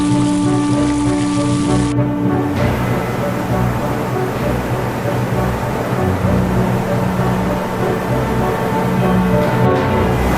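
Heavy rain pours during flooding in Hunan province, China, a dense, loud and continuous hiss and splash that fills the whole stretch, with a brief tonal hum at the start.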